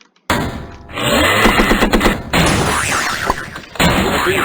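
Gunfire in the tank video game AZ Tanks: rapid bursts of sharp, clattering shots and booming thuds crowd together, with brief breaks between volleys.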